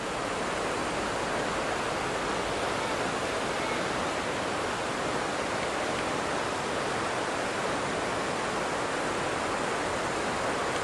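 The Prut river near Mykulychyn rushes below a suspension bridge, a steady, dense broadband roar of flowing water that holds unbroken and fairly loud throughout, with no voices.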